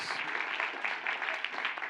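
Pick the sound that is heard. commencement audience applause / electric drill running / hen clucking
commencement audience applause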